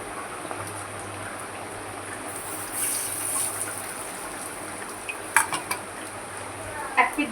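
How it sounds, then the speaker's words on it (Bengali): Goat fat fritters frying in oil like onion pakoras, a steady broadband sizzle running throughout with a few light utensil clinks and scrapes toward the end, no voices. "আমি এবারে এটাকে পেঁয়াজির মতন করে ভাজবো"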